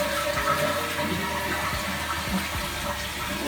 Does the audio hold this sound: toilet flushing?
yes